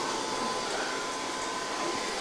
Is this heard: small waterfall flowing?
no